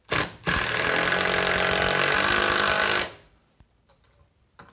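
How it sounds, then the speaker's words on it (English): A power drill drives screws up through a subfloor into a joist from underneath, one continuous loud three-second whir that stops abruptly, followed by a few faint clicks. "And then I'm going to drive in these two screws."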